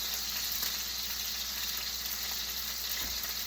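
Steak frying in a pan, a steady close hiss and sizzle of fat crackling throughout, with no talk.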